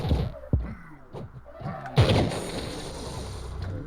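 Skill 1 of the Solarion class in the video game Trove fires as a heavy boom followed by a lingering crackling burst, preceded by a few dull thuds; no speech.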